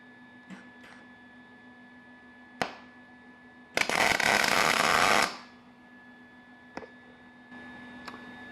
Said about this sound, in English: A lovely rosette weld.